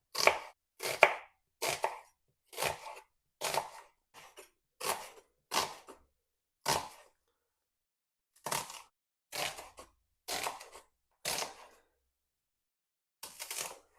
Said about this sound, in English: We're just going to roughly chop the onions.